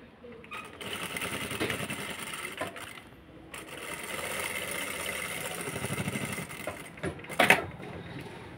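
A sewing machine stitches fabric in steady motor runs broken by short pauses, close and fairly loud, with a brief clatter near the end.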